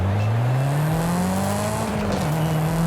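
A Mitsubishi EVO 9 in Forza Horizon 5 pulls away from the line, its engine note climbing steadily in pitch as it accelerates, loud and continuous with no voices, then briefly dipping as it shifts.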